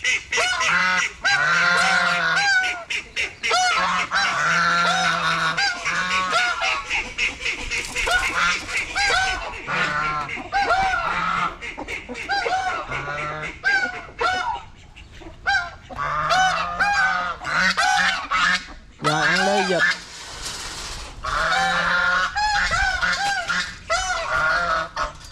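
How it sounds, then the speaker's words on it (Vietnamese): Ducks honk and quack loudly and almost continuously while being fed at a riverside release of animals, with harsh repeated calls close by and only brief pauses. "Để coi mấy bạn vịt ăn nha."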